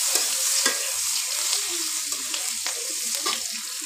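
Chopped onion with dried red chilli and bay leaf frying in hot oil, a steady close sizzle with scattered stirring scrapes and faint crackles throughout, no talking.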